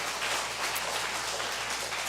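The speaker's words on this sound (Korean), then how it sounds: "우리 주님께 영광의 박수 올리겠습니다" A church congregation claps in praise during a pastor's sermon, a steady, even wash of many hands heard from a moderate distance with no talking over it.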